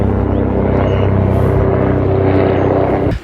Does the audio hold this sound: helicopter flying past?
yes